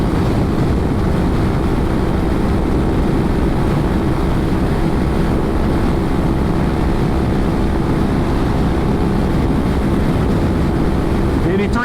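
Honda Forza 300 scooter held at wide-open throttle near its top speed of about 80 mph and 8,000 RPM with a heavy rider, giving a steady, loud engine drone blended with constant wind rush for the whole stretch.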